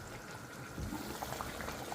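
Thick non-vegetarian curry bubbling and popping in a pot at a gentle, steady simmer, heard close up with no talking.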